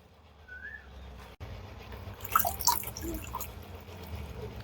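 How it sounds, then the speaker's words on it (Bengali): Water draining from a washed banana flower, with soft dripping and trickling splashes up close, louder in the middle, against a quiet background. "এরকম ভাবে পানিটা আমি ঝরিয়ে নেবো"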